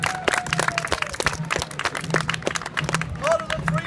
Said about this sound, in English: In fact, I can do this until you all clap.